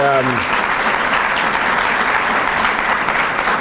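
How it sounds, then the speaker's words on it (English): Loud, dense applause at a Chamber Day gathering at the Virginia Capitol for Lieutenant Governor Bill Bolling, breaking in right as a voice trails off and continuing steadily. "Let's give a great round of applause for our great Lieutenant Governor, Bill Bolling"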